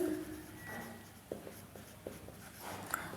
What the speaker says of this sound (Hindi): यहाँ पर लिखेंगे कि